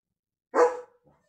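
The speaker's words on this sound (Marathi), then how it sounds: "आणि लिओ भुंकतोय सारखा।" A German Shepherd gives one sharp, close bark outdoors in a rain-wet flower garden. The bark trails off quickly into silence.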